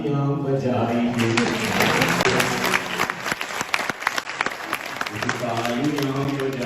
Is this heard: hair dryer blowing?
no